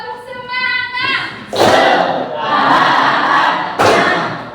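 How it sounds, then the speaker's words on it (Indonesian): Schoolchildren repeat the 'tepuk semangat' chant, loud group shouts of the syllables broken by heavy unison claps, a lively, close classroom crowd calling out together in bursts. "Oke, coba diulang, tepuk semangat."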